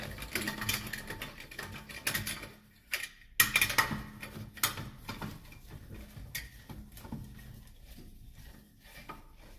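A torque wrench tightens lug nuts while winter tires are changed, with close ratcheting clicks and metallic clanks in irregular bursts, loud at first and then thinning out.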